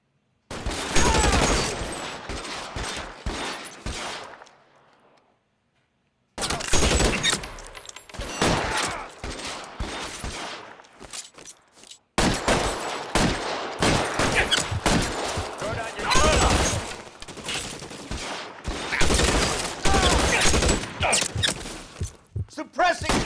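Gunfire in the video game L.A. Noire: dense, rapid volleys of shots crackling in long bursts, loud and close, broken by a few seconds of silence between exchanges.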